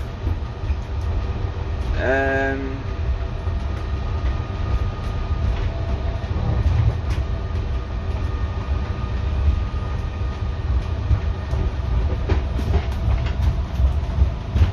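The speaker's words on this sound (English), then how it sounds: "Back with the pod back to Heathrow Terminal 5" An automated Heathrow pod transit vehicle rides along its guideway back to Terminal 5 with a loud, steady rolling rumble. A brief rising electronic tone sounds early on.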